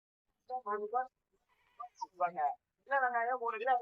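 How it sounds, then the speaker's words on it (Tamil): Goats bleat at the Nangavalli goat market in Salem district, with several wavering, nasal bleats close by in three bursts, separated by short pauses. "ஆடு எல்லாமே பாருங்கள் நல்லா ஆடாக இருக்குது"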